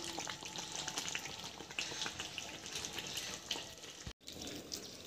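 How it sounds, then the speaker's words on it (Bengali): Chicken sautéing in curry masala, a steady close sizzle and crackle of frying with soft stirring throughout, broken by a brief cut near the end. "চিকেন কষানো হচ্ছে"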